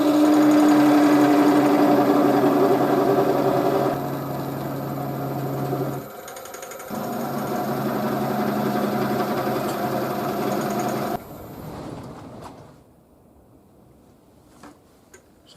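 An oak bowl spins on a wood lathe while a spiraling tool textures it, giving a steady loud mechanical whir with a rapid ticking chatter that shifts in strength, pauses briefly, then tapers off and goes quiet near the end.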